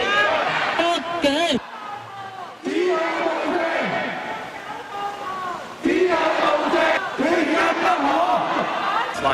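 Flash mob protest crowd gathered in a Hong Kong shopping mall at lunchtime, a few hundred people chanting and shouting together in loud rhythmic bursts with brief pauses between, echoing indoors.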